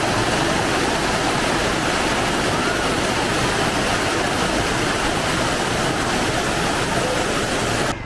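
Abbe Falls, a waterfall near Sakleshpur, roars loud and close as a dense, unbroken rush of falling water that fills the whole clip and cuts off abruptly at the end.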